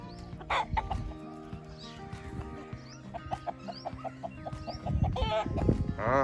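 A desi rooster and hens on a village farm cluck repeatedly in short rhythmic bursts, with occasional crowing calls and scattered background clatter, fairly quiet and close.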